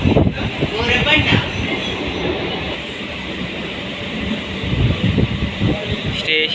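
A passenger train runs toward Borabanda station in Hyderabad, heard from inside: a steady loud rumble with rhythmic rail clatter and brief wheel squeals, while people talk faintly in the carriage.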